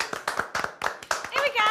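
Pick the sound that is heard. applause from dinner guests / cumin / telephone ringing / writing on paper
applause from dinner guests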